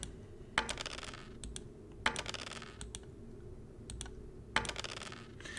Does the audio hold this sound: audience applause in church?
no